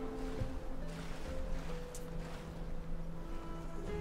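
A character wades through water in the video game Enderal, giving a soft, steady sloshing that resembles waves lapping against a boat hull, faint and continuous.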